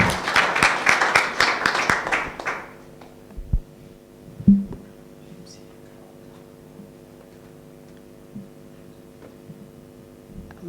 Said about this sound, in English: Let's clap as she's coming.